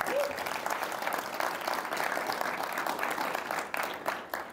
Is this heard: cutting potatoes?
no